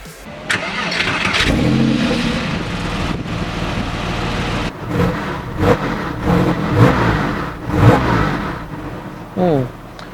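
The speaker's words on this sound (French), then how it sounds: "Je sens que ça va monter dans les tours, ça va être sympa." A Porsche 997 with a manual gearbox starts up outside and its engine revs loudly up and down nearby, with sharp bursts of throttle near the end.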